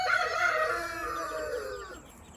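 A hen tending young chicks in a henhouse gives a single drawn-out, falling call of about two seconds, fairly close and alone with no talk.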